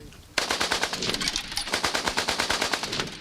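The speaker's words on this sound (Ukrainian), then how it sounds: "На ньому раритетні спарені два кулемети Максим" Twin vintage Maxim machine guns fire a loud, sustained, rapid burst of rhythmic shots at close range, used by air defenders shooting at drones.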